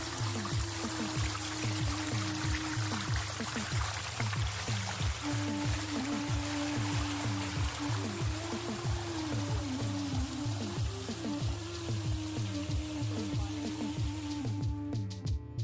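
Water pours steadily from an artificial waterfall built as the Yamuna source at an ecovillage, a continuous even rush, with a faint low hum underneath.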